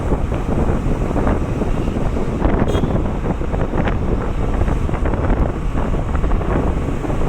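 Loud, constant wind buffets the microphone during heavy rainfall in Sulur, a dense roaring rumble with no letup throughout.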